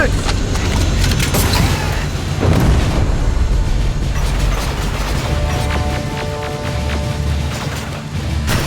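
A rocket explodes in the Terminator Resistance video game, loud booming blasts and rumbling debris over dense battle noise, with a voice shouting.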